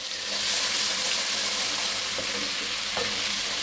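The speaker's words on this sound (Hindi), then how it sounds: "ये मैं इसमें लहसुन डाल रही हूँ, थोड़ा सा हम इसको चलाएंगे।" Garlic frying in oil alongside golden onions, a loud, dense, continuous sizzle up close, with a few soft scrapes from stirring near the end.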